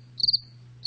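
Two short bursts of shrill cricket chirps, the first longer and pulsing, sound close and loud over a low steady hum.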